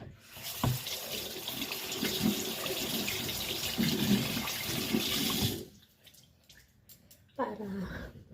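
A mango washed under a running kitchen tap: steady, loud splashing water pours for several seconds, then cuts off, followed by quieter handling sounds and a voice.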